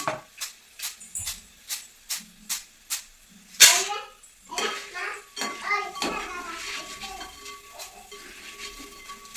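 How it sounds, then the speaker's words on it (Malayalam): Fried jackfruit is moved into a vessel with a series of evenly spaced metallic scrapes and taps against the pan, then a louder clatter and a few softer knocks, close by. "ഞാൻ ഇതൊന്ന് പാത്രത്തിലേക്ക് മാറ്റുക കേട്ടോ."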